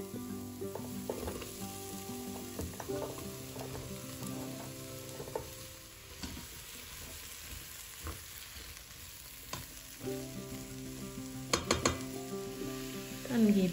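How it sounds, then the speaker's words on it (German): Onions and pumpkin fry in a pot for a pumpkin soup, a soft steady sizzle broken by scraping stirs and clinks of a spoon against the pot, with a louder clatter near the end. "Wenn die Zwiebeln dann ein bisschen Farbe bekommen haben, gebe ich auch den Kürbis dazu."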